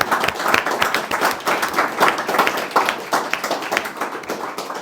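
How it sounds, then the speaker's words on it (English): An audience at a book launch breaks into sustained applause, dense steady clapping from a crowd in a room, fairly loud and even throughout with no voices on top. "We should give that a round of applause."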